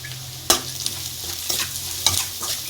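A spatula scrapes and stirs spiced potato filling with salt, turmeric and chili powder in a hot pan, giving a few sharp strokes over a soft, steady sizzle, close and with no talking.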